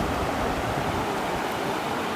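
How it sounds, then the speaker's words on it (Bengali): Sea waves on the beach at Tajpur, a steady broad wash of surf with no distinct breaks, moderately loud and continuous throughout. "সমুদ্রের ঢেউ কিন্তু অসাধারণ আসছে"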